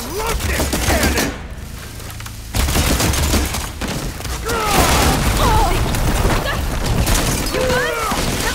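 A cannon fires repeatedly in Horizon Forbidden West, a loud, dense barrage of blasts and impacts filling the whole stretch amid battle noise, with voices calling out over it.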